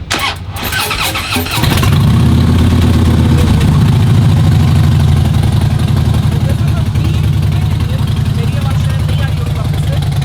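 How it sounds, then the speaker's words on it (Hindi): A big Harley motorcycle engine with a modified loud exhaust starts up and settles into a loud, deep, throbbing idle that rumbles steadily for several seconds. "बहुत ही लाउड बाइक है, बहुत ज़बरदस्त लाउड।"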